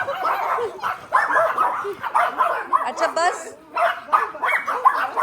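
A small pet dog, just back from the vet after an injection, yips, whimpers and barks in short bursts while someone talks to it nearby.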